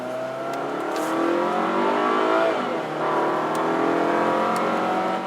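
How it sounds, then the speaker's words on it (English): A Volkswagen Golf engine revs hard toward the red line, its loud, rising drone climbing in pitch. It dips briefly at a shift, then builds again, heard from inside the car. "Now this Volkswagen Golf is coming alive. Shift it yourself, and actually lets itself go a little bit into the red line there"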